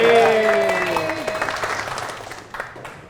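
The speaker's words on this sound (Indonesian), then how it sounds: "Tepuk tangan dong buat founder-founder" A stand-up comedy crowd in Jakarta claps for the founders of a comedy community, a full burst of applause under a few words of talk that fades gradually over a few seconds.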